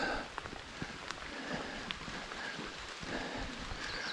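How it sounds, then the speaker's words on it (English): Steady rain patters nearby on the Appalachian Trail, a soft hiss with scattered drips and taps on a surface, faint and continuous without voices. "Alright, we got some rain."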